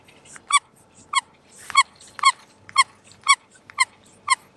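A dog chews and plays with a squeaky toy, producing about eight sharp, high squeaks at a fairly regular pace, each one loud and close, with faint chewing and rustling in between.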